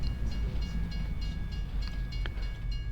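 A train rolls past in Farming Simulator 2025, a steady rumbling drone with rail hum and a faint whistle-like tone, moderately loud and continuous with no talk.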